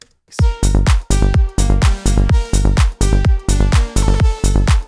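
A looping techno-style electronic percussion pattern with deep rolling bass hits, pitched low, repeating in a steady rhythm of punchy bars with short gaps between.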